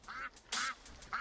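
A cartoonish duck quacks three times in quick succession in a video game, short nasal calls fairly close and moderately loud with no talking over them.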